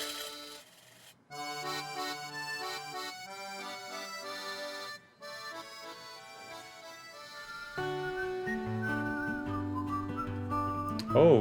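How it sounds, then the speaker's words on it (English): Whistled melody in a music track, bright sustained tones over a steady accompaniment with accordion, growing fuller and louder toward the end, with no talking. "Oh, coming in with the whistles."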